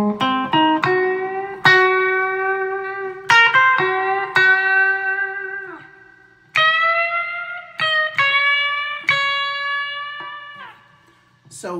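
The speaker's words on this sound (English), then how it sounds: "It's sort of like putting a little chirp kind of transient attack on the front end of the note." Electric guitar played with chirp picking, each note given a quick squeaky pick transient on its attack: a series of ringing, slightly distorted notes and chords, some sustaining and fading, played alone and fairly close.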